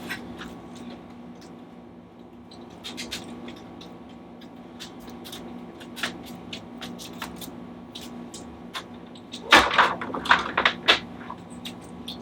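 A Maxi-Matcher tube tester is pulled out on a bench used for testing Philips 6CA7 tubes. A low steady hum runs under scattered clicks, then a short burst of close clattering and knocking comes near the end.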